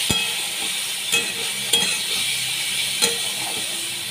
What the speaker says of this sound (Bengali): পেঁয়াজ আর টমেটোটা আমি ভালো করে কষিয়ে নিচ্ছি।